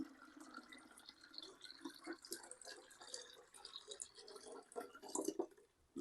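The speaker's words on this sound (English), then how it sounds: "I'm going to pour all of this juice into the fermenter." Pink grapefruit juice poured from a very full container into a fermenter, a fairly quiet, uneven trickle with dripping and splashing that swells near the end before tapering off.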